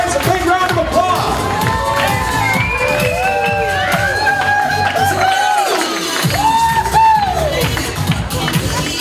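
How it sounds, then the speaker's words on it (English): Wedding guests cheering and whooping for the wedding party, a loud crowd of voices with high shouts and yells rising and falling under music, close and continuous. "Let's give these guys a big round of applause."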